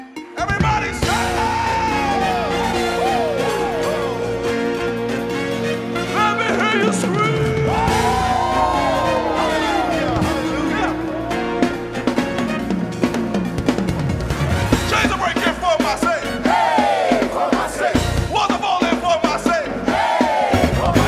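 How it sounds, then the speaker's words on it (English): A large church congregation yells and whoops continuously, many voices rising and falling together in an energetic, sustained roar with no quiet breaks. "Everybody shout."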